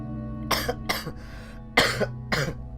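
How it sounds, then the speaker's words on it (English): Four sharp coughs in two pairs, close and fairly loud, with a low steady hum underneath and no talking. "I've been dying to cough all the way through that."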